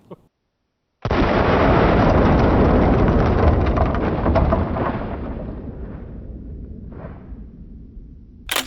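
A powerful shotgun slug fired at a bulletproof vest lands as one huge close blast after a moment of quiet, rolling and echoing for several seconds before fading, with a faint thump near the end.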